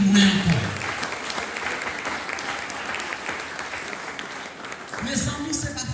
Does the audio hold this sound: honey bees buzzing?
no